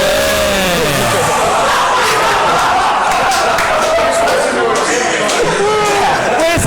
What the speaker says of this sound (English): I need to have a round of applause, and the one with the most applause wins.